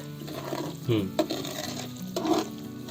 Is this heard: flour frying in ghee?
yes